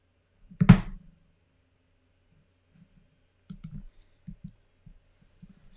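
A computer mouse clicks while chart extensions are drawn: one sharp click, a pause, then a quick run of light, close clicks, faint and isolated.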